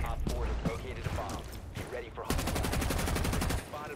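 Rapid automatic gunfire from a recoil-free LMG-style weapon in a video game, starting as scattered shots under a talking player and then breaking into a dense sustained burst for over a second.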